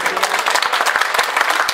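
A crowd at a village wedding folk festival in Ajak claps for the performers, a short burst of dense, loud applause with a few voices mingling in.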